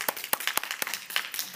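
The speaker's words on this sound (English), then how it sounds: "let's give a round of applause for Michael" A small school debate audience claps for the second speaker for the opposition, with quiet, loose, irregular hand claps that stay fairly sparse and thin.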